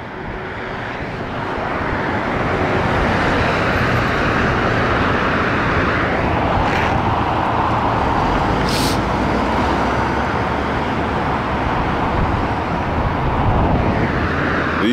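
Steady, loud freeway traffic roars continuously from within a car near Chicago Boulevard, a dense broadband wash of tyre and engine noise with a brief higher whine passing partway through.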